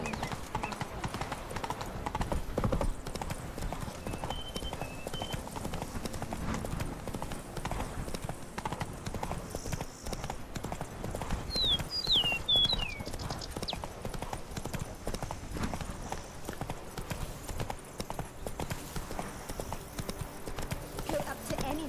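Horse hooves clip-clopping steadily in The Witcher 3, Blood and Wine, a quiet continuous trot with a brief whinny partway through, heard low under game ambience.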